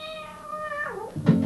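A cat gives a single clear meow, a rising then falling wavering cry lasting about a second, close and fairly loud, followed by a brief low thump at the end.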